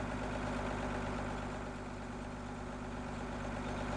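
A 7530 tractor engine in Farming Simulator 17 drones steadily while climbing a hill, a continuous low rumble at even loudness without talk.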